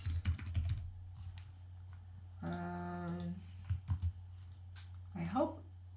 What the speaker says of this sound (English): I'll just make it A4 and I'll start typing.